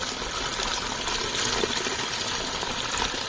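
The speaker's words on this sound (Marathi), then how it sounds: "पाण्याचा आवाज घ्या हा आपल्याला वर्षातून एकदाच आवाज ऐकायला भेटतो" Steady rushing of a monsoon spring flowing in the Konkan countryside, a dense continuous gush close by, with no voices.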